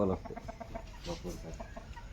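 Chickens cluck in short, soft bursts, a few scattered calls at moderate distance.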